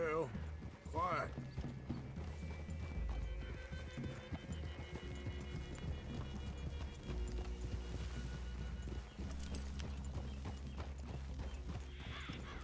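Steady clopping of horse hooves at a walking pace in Red Dead Redemption 2, under game music and ambient noise, with a brief whinny near the start.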